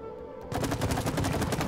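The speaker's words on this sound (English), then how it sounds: "let me shoot this one first" Rapid gunfire in the co-op video game It Takes Two starts abruptly after a quiet start and continues as a fast, evenly spaced burst of loud shots.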